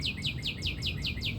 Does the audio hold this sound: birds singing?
yes